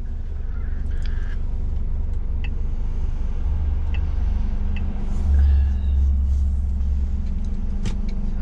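A car engine idles as a steady low rumble, with a heavier surge partway through as it catches and runs; no talk.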